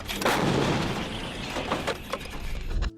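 A self-propelled howitzer fires with a deep boom, followed by rumbling echoes and a few sharper cracks fading out over a few seconds.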